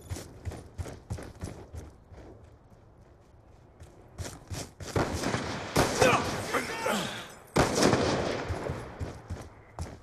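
Rapid gunfire in a competitive team shooter match, clusters of sharp shots in bursts with denser, louder volleys later, alongside quiet footsteps and some background talk.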